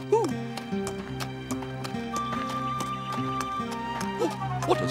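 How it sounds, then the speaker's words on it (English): Horse hooves clip-clopping in an animated episode, a steady trotting rhythm of light knocks mixed under music and scattered cartoon effects. "An injured wombat riding a horse."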